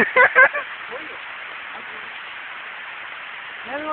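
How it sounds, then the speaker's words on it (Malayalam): Steady rain hisses evenly throughout on a forest trail to Palaruvi, with brief bursts of talk near the start and a voice returning at the very end. "മഴ പെയ്യുന്നു"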